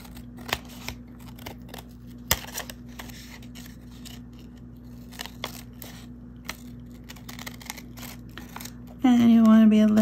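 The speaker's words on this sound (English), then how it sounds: "trim the paper" Scissors trim paper edges in a handmade journal with a series of sharp, close snips and rustles at an uneven pace, and a person starts talking at the end.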